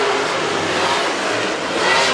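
WISSOTA Super Stock race cars accelerate together at the green flag on a speedway, a loud, dense engine roar that holds steady and swells slightly near the end, with no talking.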